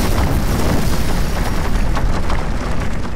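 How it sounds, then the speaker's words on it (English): Fireball launched by the Flame Apprentice enemy in the audio game The Gate: a loud, steady roaring whoosh of broadband fire noise that sustains without a break for about three seconds. "The fireballs sound like this."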